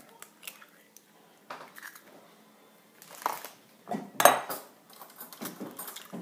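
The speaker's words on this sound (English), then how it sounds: "Okay, so just crack some eggs." Eggs cracked for carbonara: sharp clinks and taps of shell against a bowl or pan, with a loud crack near the middle amid scattered kitchen clatter, close and fairly quiet.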